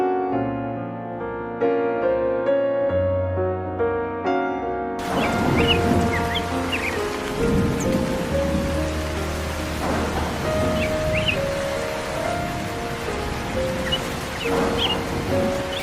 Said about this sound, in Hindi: ये तो बारिश शुरू हो गई।